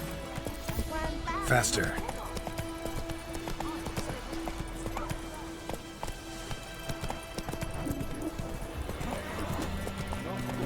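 Hoofbeats of Roach, the horse in The Witcher 3, clip-clop steadily at a ride under continuous game music and ambience, with a brief whinny and someone talking over it.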